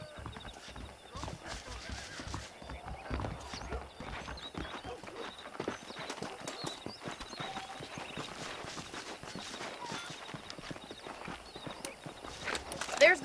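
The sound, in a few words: horses walking, clip-clop hooves, from the video game Red Dead Redemption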